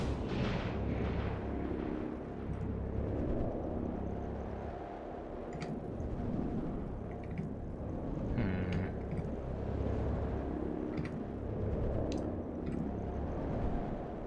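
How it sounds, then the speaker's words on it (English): Rumbling explosions and bursts of gunfire in XCOM Chimera Squad, a dense, continuous low roar with scattered sharp shots and impacts throughout, moderately loud. "There's a lot of shooting going on."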